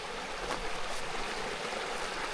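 A creek runs near a backpacking camp spot along the North Fork of the Clearwater River, giving a steady, close rush of flowing water with no voices.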